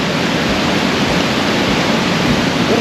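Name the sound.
flowing river water at Lynn Canyon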